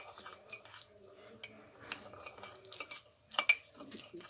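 Faint stirring and light scraping as cupcake batter with sugar and vanilla essence is mixed in a cup for a microwave cupcake, with soft irregular clinks and a couple of sharper knocks near the end.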